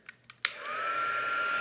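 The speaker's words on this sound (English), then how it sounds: "You turn it on, it sounds like a hairdryer." A heat embossing tool for card making clicks on and then runs with a steady, hairdryer-like whoosh and a thin high whine, close and constant with no talking.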